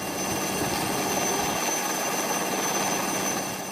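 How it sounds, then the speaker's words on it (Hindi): A coast guard helicopter working a sea rescue off Daman during Cyclone Tauktae makes a steady, loud, continuous rotor and engine roar with no breaks and no voices. "जहां कोस्ट गार्ड के हेलीकॉप्टर से समंदर में फंसे लोगों को बचाने का काम जारी है।"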